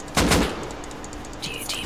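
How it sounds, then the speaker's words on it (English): Explosive-ammo gunfire in the modded Rust video game, one loud crack near the start and two fainter pops later. "They're shooting explosive ammo at me!"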